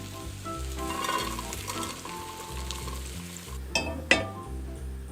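Barley groats and salted meat sizzling as they heat in a pot, a steady frying crackle close by, with a couple of sharp metallic clinks of utensil against pot near the end.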